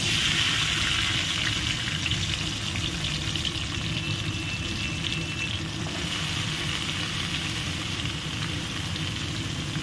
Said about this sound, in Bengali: এটাও সেমভাবে একটু ভেজে নিতে হবে।